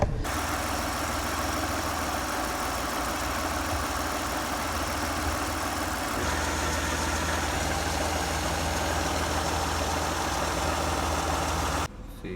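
A 1994 Chrysler LeBaron with a coolant leak idles steadily at low volume, a constant engine hum that drops away in the final moment, with no voices.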